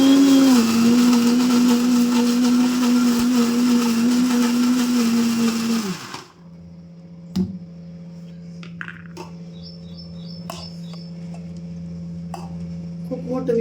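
A large kitchen mixer grinder runs with a loud, steady whine for about six seconds before winding down and stopping. Quieter clicks and handling knocks of the jar follow in a calm room.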